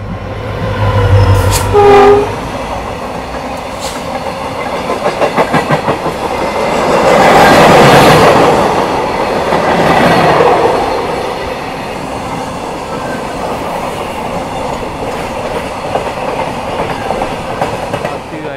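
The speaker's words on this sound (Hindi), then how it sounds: "EMD देखो क्या मस्त हॉन्किंग के साथ आ रहा है" An EMD diesel locomotive sounds its horn in loud blasts as a train passes close by, with rumbling engine noise and the clatter of wagons over rail joints rising to a peak and then carrying on.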